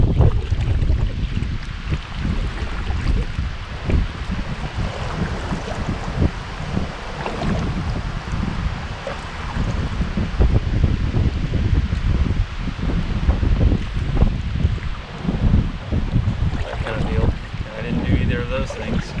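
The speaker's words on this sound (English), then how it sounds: "don't mind me just paddling backwards against the wind to try to stay in position for my next cast" Wind on the Finley River during kayak fishing, buffeting the microphone in loud, gusty rumbles alongside faint paddle and water sounds for the whole stretch.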